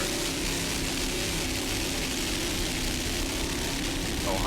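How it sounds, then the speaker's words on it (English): A rescue helicopter flies over an offshore powerboat race, a steady broadband engine and rotor roar mixed with wind rumble that stays constant throughout. "Rescue helicopter"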